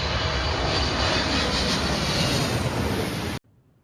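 A landing airplane passes directly overhead near LAX, a loud steady engine roar that fills the air, then cuts off abruptly into quiet.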